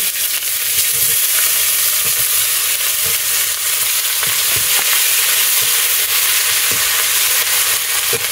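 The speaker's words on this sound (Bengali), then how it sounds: "এবার এর উপরে আমি দুটো পেঁয়াজ কুচিয়ে রেখেছিলাম, ওটাকে ভেজে নেব।" Chopped onions fry in oil with bay leaves and cumin for a country chicken curry, a loud steady sizzle close by with soft stirring taps and no talking.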